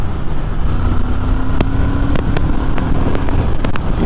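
Triumph car engine pulling steadily at 60 mph in fifth gear around 3,500 rpm, its lightened crankshaft letting it spin freely; a continuous close drone and road roar with a few sharp clicks, and no voices.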